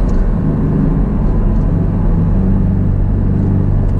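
A four-cylinder car engine accelerates in sport mode, a loud, steady low rumble with a rising drone heard from inside the cabin, continuous and close.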